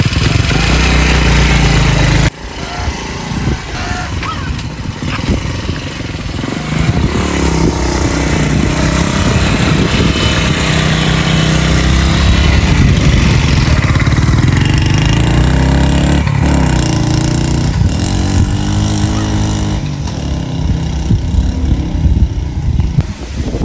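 A motorcycle engine running loudly and continuously nearby, with rough rumbling and buffeting wind noise, no talking.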